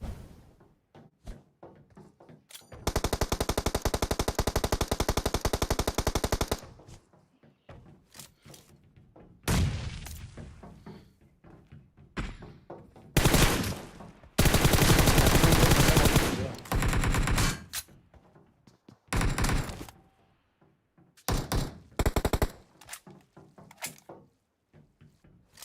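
An M4 rifle fires in PUBG Mobile in long sustained automatic bursts and shorter volleys, loud and close, with scattered single shots, thuds and quieter gaps between the rounds of fire.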